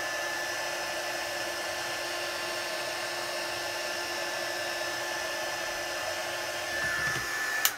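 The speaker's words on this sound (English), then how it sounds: "we're going to hold the heat gun still, and as soon as that powder changes, we're just moving the heat gun over the image again" Heat gun blowing steadily as it melts embossing powder on a stamped card image, a continuous airy whoosh with a faint whine held close, swelling slightly near the end; no talking.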